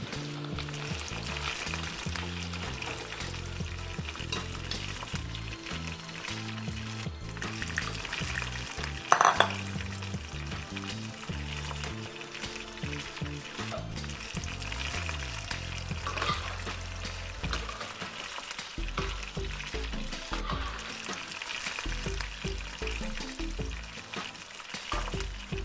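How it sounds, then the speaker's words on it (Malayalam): Chicken pieces deep-frying in hot oil over a medium flame give a continuous, even sizzle that runs throughout beneath steady background music. "ഒരു മീഡിയം ഫ്ലെയിമിൽ വെച്ച് ഫ്രൈ ചെയ്തെടുക്കാം."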